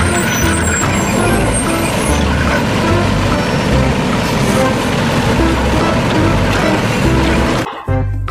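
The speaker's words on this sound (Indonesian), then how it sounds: "Yang ini ada mobil truk pengangkut sampah." Garbage truck running with a loud, steady engine rumble, a hiss like air brakes and a faint high beeping, continuous and close before cutting out at the end.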